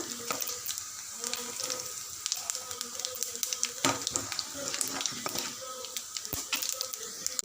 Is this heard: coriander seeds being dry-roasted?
yes